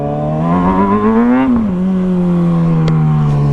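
Suzuki GSX-R600 motorcycle engine running steadily close by, a strong droning hum whose pitch rises slightly then drops back and holds, with no one talking.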